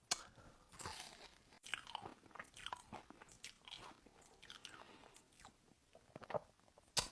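Crunchy fried Algerian pastry with pecans being chewed up close, a steady run of crisp bites and moist mastication sounds with brief pauses and no talking.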